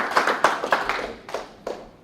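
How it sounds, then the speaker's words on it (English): A few scattered hand claps in a general assembly meeting room, five or six separate slaps spread over two seconds, close and moderately loud, with no talk. "Applause."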